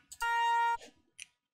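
A bright, buzzy trance synth lead note without EQ holds steady for about half a second, flanked by brief clicks and short noisy blips.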